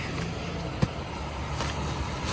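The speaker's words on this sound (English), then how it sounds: "There's a truck coming. It's so loud." A loud truck rumbles past close by, a steady broadband roar of engine and tires heard from inside a parked car, with no talking.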